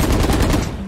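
Rapid automatic gunfire in a video game rattles off in a quick, loud burst of evenly spaced shots that stops within a second.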